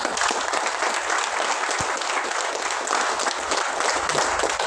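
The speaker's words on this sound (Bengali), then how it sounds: "প্রত্যেকে একটু ধন্যবাদ জানাবেন হাততালি দিয়ে" Sustained audience applause at a meeting in Digha, many hands clapping steadily and fairly loud for the whole stretch, with no talk over it.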